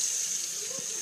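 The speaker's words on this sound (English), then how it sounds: "So let's turn this kitchen sink on." A kitchen sink faucet runs during a search for a water leak, a steady, fairly quiet hiss of flowing water that stays even throughout the short stretch.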